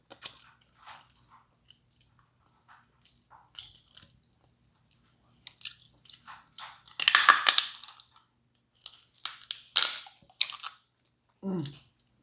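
Crab shells being cracked and chewed during an eating race, with scattered small crunches building to a burst of loud close snapping and crushing, then a few more cracks, no talking.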